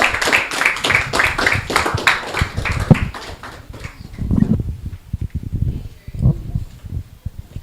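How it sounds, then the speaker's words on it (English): A small audience at an SME business pitch event claps for a few seconds in a brisk, close burst that fades out, followed by scattered talking. "let's give her a round of applause"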